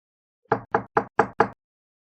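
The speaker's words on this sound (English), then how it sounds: "There is another knock at the door." Five evenly spaced, firm knocks on a door in quick succession, close and clear, with silence before and after.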